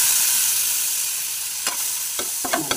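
A spice paste of ginger, cumin, coriander, chilli and turmeric frying in hot oil, a loud steady bright sizzle with several quick scraping stirs near the end.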